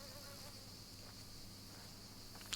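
Bees buzz in A Plague Tale: Requiem, a soft continuous insect drone heard alone at low level, with a brief louder rustle at the very end.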